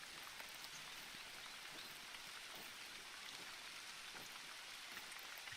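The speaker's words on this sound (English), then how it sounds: "the good thing about the rain is it doesn't mask your your noise, but it does mask your profile." Steady rain falls in the hunting video game theHunter: Call of the Wild, a soft, continuous hiss of drops on foliage and ground that stays faint and even throughout, with no voices.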